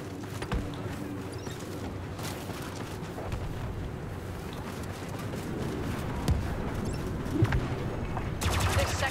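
Turret gunfire in a sci-fi shooter video game battle at a spaceport, a steady stream of rapid shots and mechanical clatter under a busy game soundtrack, with a voice briefly speaking.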